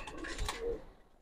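A pair of fancy Giribaz racing pigeons at a loft gives a short, close, low coo, heard alone and fairly quiet.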